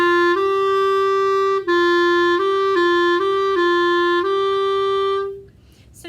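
A clarinet plays a short phrase of sustained notes around G, shifting pitch and re-articulating several times over five seconds before the tone cuts off, with no voices.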